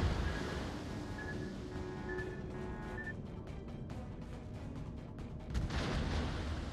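Torpedo explosions in a naval battle video game roll out as low, rumbling booms under a dense wash of noise, with several sharper bursts clustered in the middle and a heavier surge near the end.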